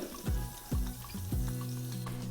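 Butter with a little oil sizzles in a pan, a steady crackling fry broken by a few quick scraping strokes, close and fairly loud with no voices.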